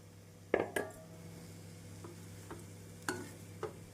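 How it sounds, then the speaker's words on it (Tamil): A utensil stirs cooked rice with carrots in a pan, giving a few sharp clinks and scrapes over a faint, low sizzle in a quiet kitchen. "நாம் சாதத்தை சேர்த்து மெதுவாக கிளற வேண்டும்."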